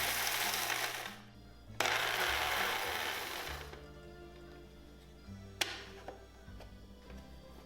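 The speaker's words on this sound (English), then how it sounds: "we're gonna grind until they become powder." An electric grinder whirs as it pulverizes dried lantern chili peppers into powder, a harsh buzzing burst in two spells before the motor winds down, followed by quieter clicks and taps.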